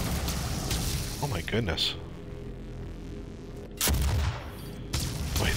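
Rockets fired at the player in the DOOM SnapMap level "Hellish – Map 01 Frozen Tech" land as repeated loud booming blasts and rumbling impacts, with a man exclaiming over the barrage.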